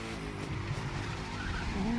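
Koenigsegg Jesko hypercar in The Crew 2 racing at high speed, a steady loud engine roar with tire noise and a rising whine near the end, no talking.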